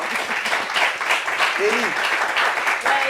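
Audience applause during a talk show discussion, a dense clapping wash with a voice speaking briefly over it.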